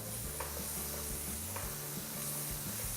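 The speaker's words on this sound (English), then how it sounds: "I am going to add the chili bean. And give it a quick fry" Chili bean paste sizzles steadily in a hot pan, with a spoon scraping and stirring through it in a few soft strokes; the frying noise is close, even and continuous, with no one speaking.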